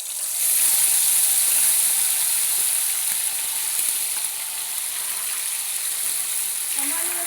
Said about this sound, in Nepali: र अब यसलाई रातो हुन्जेल फ्राई गर्ने।